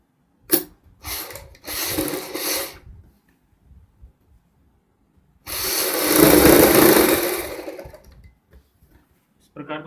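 Sewing machine stitching a kid's fancy dress, running in short bursts and then one longer steady whir up close, with quiet pauses between runs.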